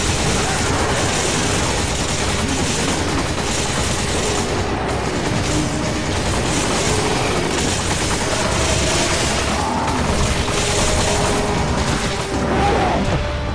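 Loud, unbroken gunfire and booming impacts from Resident Evil 5 fill the whole stretch as a dense, continuous barrage with little pause.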